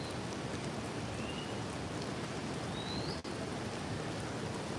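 Rain falls outside onto a roof, a soft, even hiss of drops that holds steady and faint throughout with no voices.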